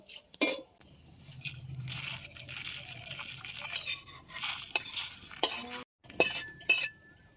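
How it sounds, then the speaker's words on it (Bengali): Whole coriander, cumin and mustard seeds dry-roast in a pan for mango pickle. Rattling, scraping stirs and clinks come in bursts over a faint crackle, with brief silent gaps between. "মশলাটা ভালো করে ভেজে নেব"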